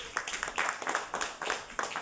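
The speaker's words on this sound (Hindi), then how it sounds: "पहले तो इनके लिए तालियां बजनी चाहिए" An audience at an event in India claps for children taking part in a competition, a brief round of quiet, distant applause with regular hand strikes.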